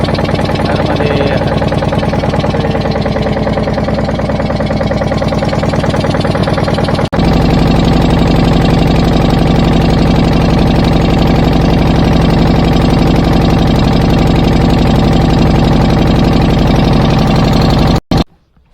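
A boat engine runs steadily as the boat crosses a river, a loud, continuous mid-pitched drone with a sharp jump in level partway through, then cutting off abruptly near the end.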